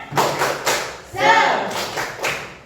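A classroom of students performs the tepuk semangat clapping routine, loud group claps and thumps in a quick patterned rhythm, with voices chanting along between the beats.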